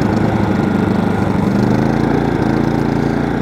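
A small petrol inverter generator, an HG4500i, runs steadily at a constant pulsing drone, loud and near, with no voices over it.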